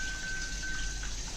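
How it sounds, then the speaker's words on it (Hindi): Hot water at 41 degrees pours from a bath tap in a Japanese apartment, a steady close hiss of splashing water, even and unbroken, with a faint high tone running beneath it. "तो ये अभी फ़िलहाल 41 डिग्री की गर्म पानी है।"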